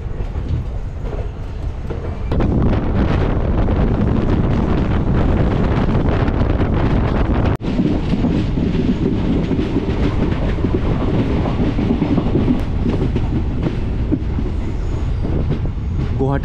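The Rajya Rani Express, Alipurduar to Silghat Town, runs with loud sustained rumble and clickety-clack of wheels, buffeted by wind noise, with a brief dip and jolt midway.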